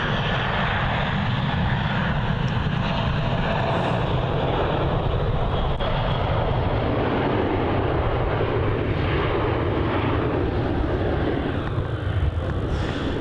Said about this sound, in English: That is Jetstar flight JQ438 off to the Gold Coast. Another A320.